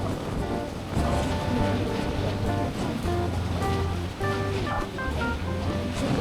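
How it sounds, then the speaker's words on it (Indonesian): Waves breaking along Kuta Beach in Bali after strong winds, with large surf rolling in as a steady loud wash, gusts buffeting the microphone and no talk. "terlihat di lautnya juga banyak yang surfing ya teman-teman, karena ini ombaknya juga pas lumayan besar"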